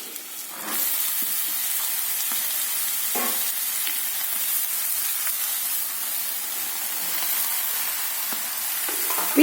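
Ginger-garlic paste sautés in hot oil in a pan for ridge gourd curry, a steady broadband sizzle with occasional soft scrapes of stirring, close and continuous throughout.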